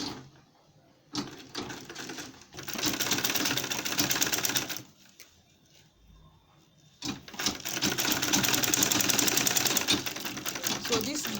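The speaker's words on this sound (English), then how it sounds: "So place your belt on the line and then sew it" A sewing machine stitches a belt onto an insulated lunch bag in two rapid whirring runs, each a few seconds long and separated by a quiet pause, close and clear.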